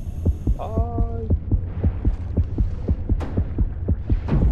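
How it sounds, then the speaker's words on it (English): A rapid, throbbing heartbeat from the underwater diving game Depth, thumping steadily and loudly at close range under a low electronic hum, with a brief tonal game sound early on. "I hear the heartbeat going crazy."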